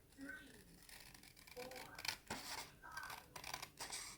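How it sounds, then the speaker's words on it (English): Scissors snip and rustle through paper being trimmed by hand for a discbound Christmas planner, a series of soft close cuts and handling noises, quiet throughout. "I'm gonna trim the rest by hand."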